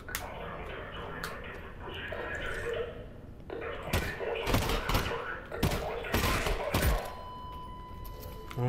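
Gunfire in the VR shooter Half-Life: Alyx, a string of sharp separate shots cracking out near the close after a stretch of quieter ambience, with a person talking underneath.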